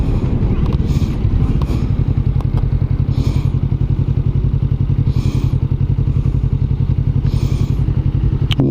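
Kawasaki Vulcan S 2021 motorcycle engine running loud and close in a steady low rumble, its firing pulses even throughout, with faint breathy noise over the top.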